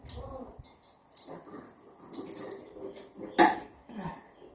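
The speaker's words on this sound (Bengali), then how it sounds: "হাতটা ধুচ্ছি" Water running from a kitchen tap as a woman washes her hands while holding her young daughter, with a soft intermittent splash and trickle, a brief louder splash near the end, and quiet household background.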